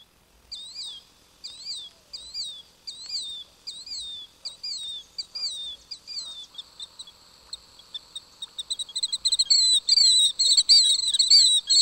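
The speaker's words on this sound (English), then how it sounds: "the petulant killdeer calls its name from coast to coast as it flies in great circles overhead" Killdeer calling repeatedly in a clear, high, two-note rhythmic series, alone and fairly close, then a faster, louder run of shrill calls toward the end.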